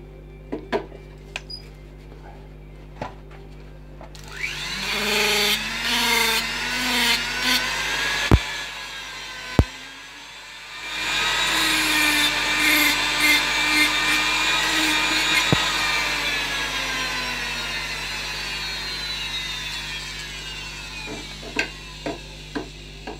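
Power tool carving the snout of a wooden German Shorthaired Pointer dog figure, a steady high whining grind in two long bursts separated by a short pause, loud and close with no talk.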